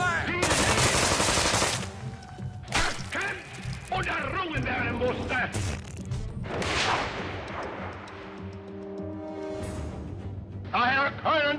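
Loud, rapid video-game gunfire with sustained bursts and scattered single shots, mixed with shouted voices and battle noise, growing sparser toward the end.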